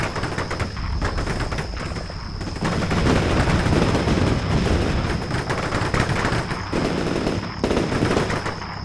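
Dense, sustained machine-gun and rifle fire from a Combat Mission Cold War battle at the DMZ, loud continuous crackling bursts overlapping throughout with no pauses and no talking.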